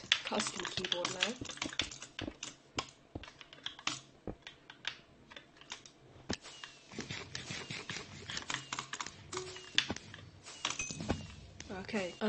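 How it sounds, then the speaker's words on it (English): Rapid, uneven clacking keystrokes on a custom computer keyboard, dense bursts of close, crisp clicks running throughout with brief pauses. "And my really nice custom keyboard now."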